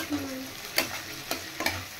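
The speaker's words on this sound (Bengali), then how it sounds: "এবার আমি দেবো সামান্য নুন, তাহলে পেঁয়াজটা তাড়াতাড়ি ভাজা হয়ে যাবে" Onions frying with a little salt in a pan give a steady close sizzle, broken by a few quick scraping stirs of a spoon against the pan, with no talking.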